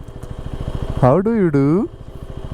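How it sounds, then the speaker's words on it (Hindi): A motorcycle idles with its radiator cooling fan running on a high mountain road, a steady low pulsing throb underneath while someone briefly talks over it. "कूलिंग फ़ैन चल गया है"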